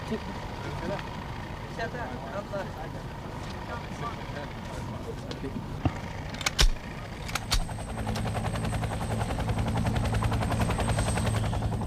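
A Royal Brunei Malay Regiment military helicopter from the 1980s thuds steadily under a narrator's voice, with a few sharp bangs midway before the rotor drone grows slightly louder near the end.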